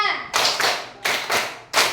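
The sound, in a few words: rhythmic hand clapping counted by class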